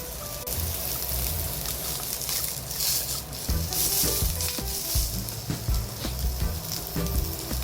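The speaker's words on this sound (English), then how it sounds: "Sauteed chashu. So you doesn't need some oil because in this meat has a fat side." Pork chashu sizzles in a pan with no added oil, searing in fat rendered from its own fatty side; a loud, dense crackle runs throughout with occasional louder pops and spatters up close.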